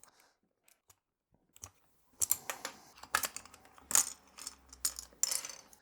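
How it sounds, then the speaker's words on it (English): Keycaps are pulled off a Keychron K8 Pro hot-swappable mechanical keyboard, giving scattered sharp plastic clicks and snaps that come close together and grow louder over a few seconds after near silence. "let's just take some of these keycaps off so we can actually see the backlighting better in the studio"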